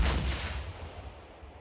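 A flashbang going off in the video game Days Gone: a single loud, close boom at the start that fades into a rumbling decay over about a second and a half.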